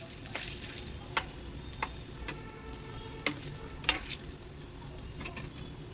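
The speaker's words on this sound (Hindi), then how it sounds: "ये हमारे इधर के कोफ्ते जो है अच्छे से फ्राई चुके हैं" Cauliflower koftas fry in hot oil with a steady close sizzle, broken by occasional sharp crackles and pops from spattering oil; no talk.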